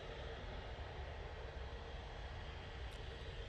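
A VistaJet Cessna Citation business jet taxiing at Manchester Airport, a faint, distant, steady engine rumble and hiss that holds even throughout.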